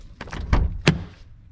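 A Subaru Legacy car door being opened: a few quick clicks and thunks from the latch and handle, ending in a sharper clunk, close up with no talking.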